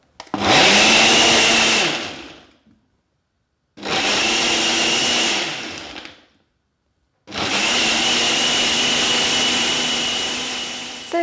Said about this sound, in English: So squash them in, and our liquid as well. And then we're ready to blend.